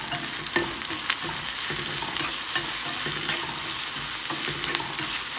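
Onions fry in a pan for a cucumber curry, a continuous close sizzle punctuated by repeated scraping clicks of a spoon stirring them at an uneven rhythm.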